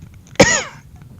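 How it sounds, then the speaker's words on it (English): A single sharp cough bursts out abruptly and fades within about half a second, heard alone against a quiet room. "are they going to cough like that?"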